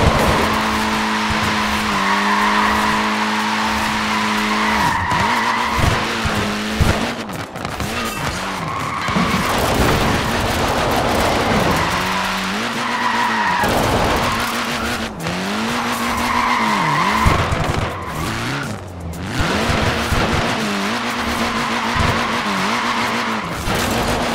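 Tyres skid and squeal repeatedly on a small, short-wheelbase front-wheel-drive car in the Forza Horizon 4 racing game, with long wailing screeches over a loud engine drone, coming in several bursts.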